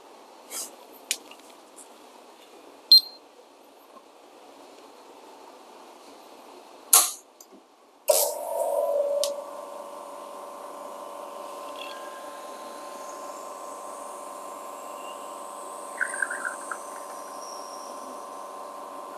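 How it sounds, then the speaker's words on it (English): A Nook Mini dual boiler espresso machine with a rotary pump pulling a shot: a few clicks and a brief hiss, then a steady pump hum runs on, with a faint sputtering spray near the end. "we're gonna pull a second shot"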